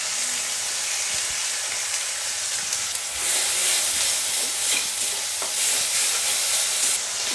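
Garlic with ginger and chili paste frying in hot oil for a prawn curry gives a steady, dense sizzle with bubbling crackle that runs unbroken throughout, close and fairly loud, with no talking.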